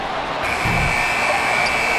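An end-of-quarter buzzer in an NBA basketball video game, Thunder vs. Trail Blazers, sounds as a loud, steady tone that starts partway through and holds over constant crowd noise.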